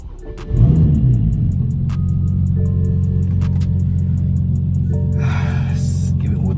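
BMW E92 335i with an LS V8 swap and cold start delete fires up with a sharp catch, then settles into a loud, rumbling, lumpy idle close by, a hissy burst briefly rising late.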